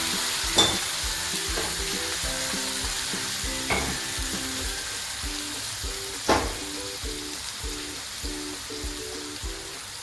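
Gravy is poured into masala frying in oil for chicken shawaya, giving a steady close sizzle with a few sharp clinks of a utensil scattered through it, and no talk.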